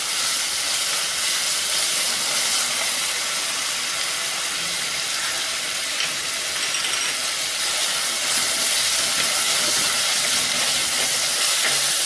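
Ginger garlic paste frying with browned onions in a pan, a steady loud hiss and sizzle running unbroken throughout with no talk.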